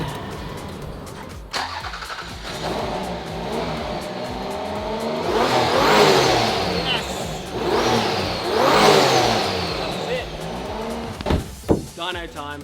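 Turbocharged V6 engine in a Toyota Camry cranks and fires up, then revs loudly in several rising sweeps before settling, with a person talking over it near the start.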